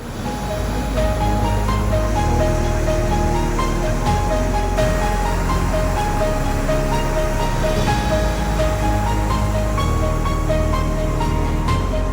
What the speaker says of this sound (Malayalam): ഈ ചെറിയ ഷിപ്പ് ഇങ്ങനെ പോകുമ്പോൾ പുറകിലുണ്ടാകുന്ന ഓളങ്ങൾ